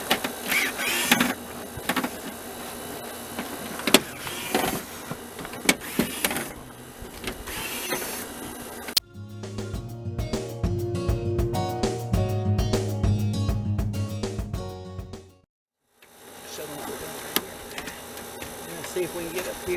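Screws are backed out of old tin siding on a house wall with a power driver, a steady whirring burst running for several seconds in the middle, with clattering and rattling work noise before and after it, close and fairly loud.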